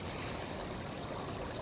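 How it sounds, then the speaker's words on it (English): A steady, even rush of falling water fills the whole clip, soft and continuous with no pauses. "I appreciate the feeling that I am getting from listening to this waterfall"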